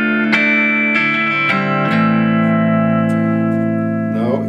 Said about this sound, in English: nice, clean sound from the single coil in the bridge position.